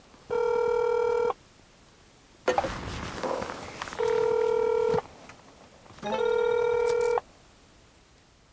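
A telephone rings unanswered in a home, three separate electronic ring bursts of about a second each with silent gaps between, plus some brief shuffling or movement noise between the first and second rings.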